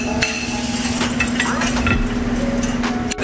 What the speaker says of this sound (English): So back to hammering.